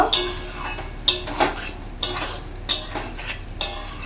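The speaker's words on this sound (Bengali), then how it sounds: "এরপর নামানোর আগে আমি সামান্য পরিমাণ একটু চিনি দিয়ে নিচ্ছি, দিয়ে ভালোভাবে একটু নাড়াচাড়া নেব" Drumstick stems in a poppy-seed curry being stirred in a pan with a little sugar added, a spoon scraping and clinking against the metal in a steady rhythm of about six strokes, close and clear, with no voices.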